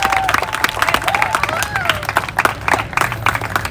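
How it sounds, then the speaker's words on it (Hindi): Audience clapping and cheering for Imran Ganchi as he is called on stage, with a crowd murmur underneath and a whistle or shout rising briefly above the claps. "please put a big round of applause for Imran Ganchi"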